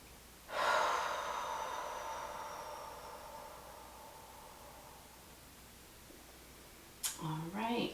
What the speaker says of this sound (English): Can we extend our inhales and our exhales here?